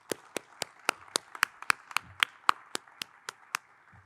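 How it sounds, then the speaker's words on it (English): Hands clapping for Councilmember Supernaw at a community hospital opening in Long Beach, a sparse run of about fourteen distinct, fairly evenly spaced claps, close and crisp against a quiet background, as if only one or two people are clapping. "let's give a big round of applause to Councilmember Supernaw"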